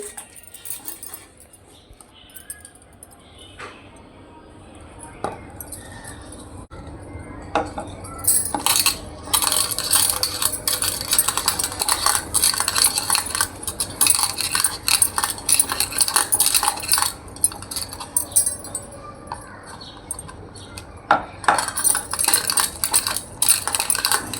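A spoon clinks and scrapes against a bowl while mixing batter for pointed gourd (potol) fritters, a busy rhythmic stirring that starts quiet and grows into steady, close clattering.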